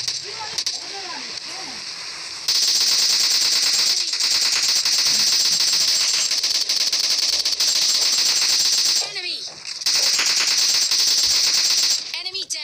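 Rapid, loud automatic AKM fire crackles almost nonstop in PUBG Lite, with brief pauses during reloading and a voice faintly underneath.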